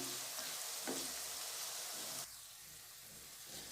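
Onions sizzling in a hot pan over medium-high heat for chicken shorba, a steady close crackling hiss of frying that continues throughout, briefly louder at first and then settling slightly quieter.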